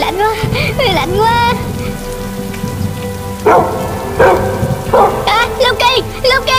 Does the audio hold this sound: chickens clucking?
no